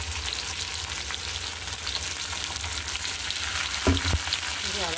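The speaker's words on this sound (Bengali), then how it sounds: "দিয়ে আবার ভালো করে আমি কষিয়ে নেব" Potatoes frying with tomato and a ground ginger, cumin and green chili paste, a steady close sizzle throughout with a couple of louder stirring scrapes near the end.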